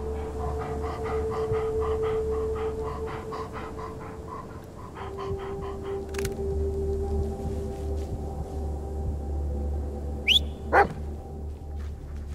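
Dog in the video game Blair Witch, soft panting and whimpering over a low ambient drone, then two short sharp barks near the end, with no one talking.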